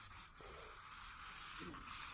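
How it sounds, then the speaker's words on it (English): Sandpaper rubbed by hand over painted body panels of a 1977 Chevelle Malibu Classic, a close, steady scratchy scrubbing in back-and-forth strokes. "I just like to use sandpaper"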